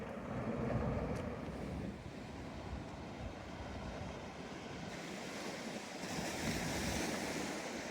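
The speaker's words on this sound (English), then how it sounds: "letting you enjoy the natural sounds of the sea" Steady wash of sea waves breaking and rolling in, with wind buffeting the microphone; continuous surf noise, no voices.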